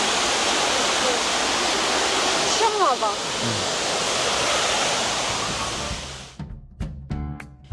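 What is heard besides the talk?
waterfall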